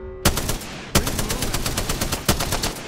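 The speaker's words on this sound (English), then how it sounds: "Shots fired, and they're hitting me." Heavy sniper-rifle shots from a Kraber in a first-person shooter video game, three sharp, loud cracks spaced about a second apart, each followed by a dense, rattling burst of rapid fire.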